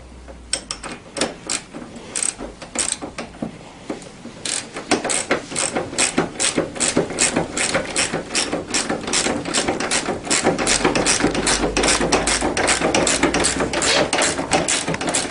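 A socket ratchet tightens the steering column nut on a Tao Tao CY50A scooter, with loud, close, rapid pawl clicking in repeated bursts that becomes continuous and dense through most of the stretch.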